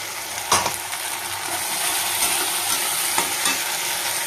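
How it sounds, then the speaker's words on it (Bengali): Ground spice paste goes into red-fried onions in a pan for restaurant-style chana masala, setting off a steady loud sizzle with scraping stir strokes at intervals. "এই পর্যায়ে আমি দিয়ে দিচ্ছি আমার বেটে রাখা মশলাটা।"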